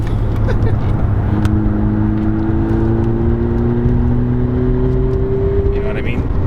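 A 2020 Honda Civic Si Coupe thrown hard into a corner at speed, its engine holding a steady drone that climbs gradually in pitch beneath constant road and wind rush.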